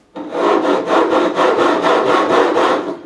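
A file rasps along the fret edges of a 1984 Greco Les Paul Custom EG-500 guitar during a re-fret, cutting a bevel in about ten even, rhythmic strokes, loud and close with no talk.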